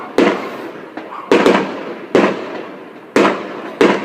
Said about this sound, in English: that's Holland with their fireworks.